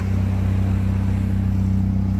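A Honda H22A4 engine running in an open bay, its steady idle rumble loud and close with a continuous even drone and no talk.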